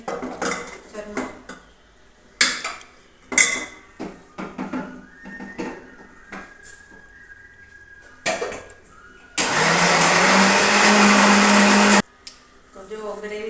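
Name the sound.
mixer grinder blending onion-tomato gravy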